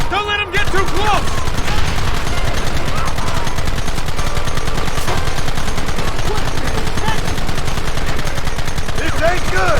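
Dense gunfire in the Western game Red Dead Redemption: a relentless, loud volley of rapid shots from several guns, close and continuous for nearly ten seconds, with faint voices buried beneath.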